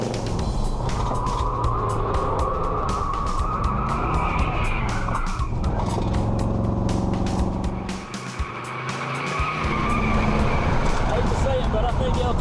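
A 1974 Ford F-100 pickup with upgraded track power races on a track, its engine roaring loudly and continuously while tires squeal and skid, with a brief dip as the truck spins off into the grass.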